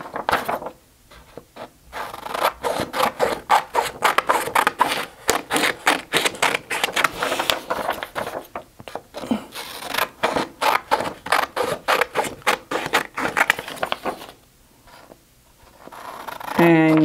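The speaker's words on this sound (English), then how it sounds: "So I cut mine out." Scissors cut out paper for a math interactive notebook, producing a rapid series of crisp, close snips in bursts with brief pauses between runs.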